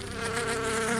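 A bee buzzes close by outdoors, a loud, continuous droning hum that holds steady for about a second.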